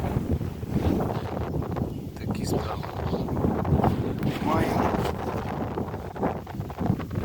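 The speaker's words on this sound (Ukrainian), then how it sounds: "Вітер." Constant wind buffets the microphone with rough, gusty rumble throughout, while a person speaks briefly over it, outdoors in a garden among pruned blackcurrant bushes.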